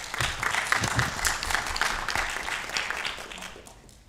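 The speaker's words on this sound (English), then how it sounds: "Give him a round of applause." An audience at a student pitch competition event claps loudly and steadily for a presenter, a dense burst of applause that fades off near the end.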